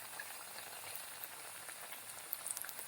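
Food frying in a pan over a medium gas flame, a faint, steady sizzle and crackle that grows slightly busier with a few sharper pops toward the end.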